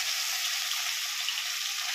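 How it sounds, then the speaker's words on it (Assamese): Fish frying in an iron kadai, a continuous even sizzle, close and moderately loud, with no voices. "এফালে ভাজিব এতিয়া মাছ"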